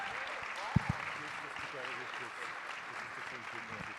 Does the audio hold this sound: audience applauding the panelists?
yes